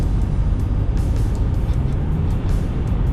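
A Ford Transit EcoBoost mid-roof van pulls hard at about 70 mph on the highway, its engine a loud, steady low rumble blended with road and wind noise, heard alone without voices.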